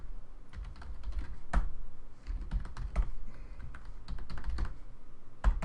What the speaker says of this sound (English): I'm still typing.